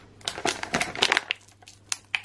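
Playmobil pack packaging is torn and unwrapped by hand without scissors, close crinkling and crunching of plastic and foil in irregular bursts, with short quiet gaps between pulls.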